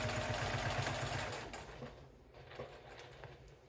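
A sewing machine runs a straight seam on a tea wallet pocket, a fast continuous motor whir and stitch clatter that slows and fades after about a second and a half.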